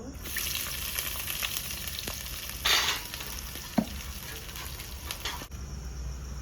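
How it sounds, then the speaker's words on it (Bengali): Onions frying in hot oil in a wok give a close, continuous sizzle with stirring scrapes, a brief louder burst partway through and a sharp clack of a utensil, then the hiss eases. "তেলটা কিন্তু গরম হয়ে গেছে এবার পেঁয়াজগুলো ঢেলে দেব"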